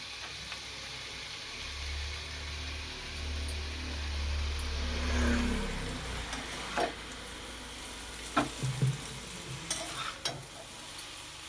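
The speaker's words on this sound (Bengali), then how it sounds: "গাজর আলুটা সুন্দরভাবে ভাজা ভাজা হয়ে যাওয়ার পরে এবার আমি চাউমিনটা দিয়ে দেবো।" Chow mein is stir-fried with carrot and potato in a pan, giving a soft, continuous sizzle with a low rumbling hum early on. Scattered scraping and clinking stir strokes follow, and no one speaks.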